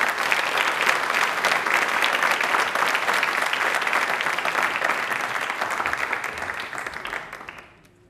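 A studio audience on a Hindi-language quiz show bursts into loud, dense applause that holds steady for several seconds before gradually fading away near the end, with little talk beneath it.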